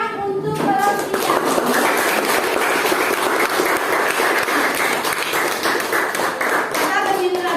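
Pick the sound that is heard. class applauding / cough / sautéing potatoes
class applauding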